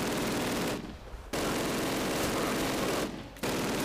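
Sustained automatic gunfire in Call of Duty, rounds striking rocks, dense and loud with two brief pauses between bursts.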